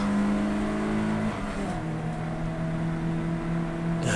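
A race car at Donington GP drones loudly from on board, its engine note dropping sharply as it shifts, then holding a steady lower hum while another car is passed.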